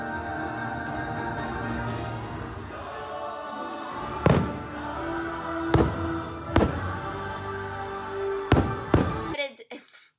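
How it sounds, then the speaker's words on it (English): Fireworks show at a Disney park, with several sharp distant booms spaced over the clip, heard under crowd murmur and nearby talking. "Right now the fireworks are gonna play"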